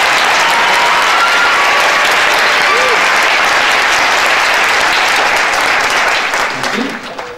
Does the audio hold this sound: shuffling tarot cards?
no